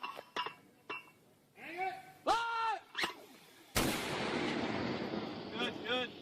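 Sharp bangs and clinks play out in a video game while a voice talks, then a grenade explosion bursts in loud and keeps rumbling in a long, broad roar to the end.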